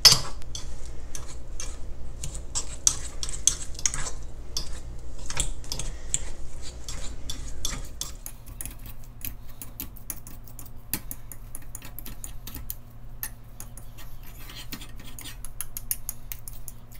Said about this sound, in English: And we're going to need a fork. Mash all these things together.